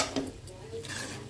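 A metal cooking pot clanks a few times in a home kitchen during breakfast preparation, short faint knocks and scrapes close by with quiet room noise between.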